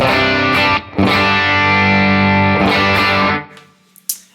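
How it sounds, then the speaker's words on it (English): An electric guitar through a Morgan AC20 amp with a clean tone and a little reverb strums sustained chords that ring out with a reverb tail, then fade away, followed by a few short plucked notes. "this is the clean tone, the amp tone that I've got"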